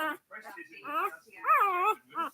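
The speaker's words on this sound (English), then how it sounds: "They'll listen to the bark of it." A four-day-old puppy, held close, gives a series of thin, high, wavering whimpers and little yips in short bursts separated by brief pauses.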